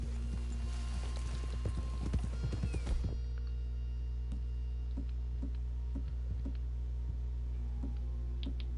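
Horse hooves clip-clop at a steady walking pace in the Red Dead Redemption video game, fairly close and distinct, with a louder clatter of steps early on that settles into evenly spaced footfalls over a low ambient hum.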